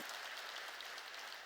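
A church congregation claps together during a sermon, a dense and even burst of applause with no talking over it.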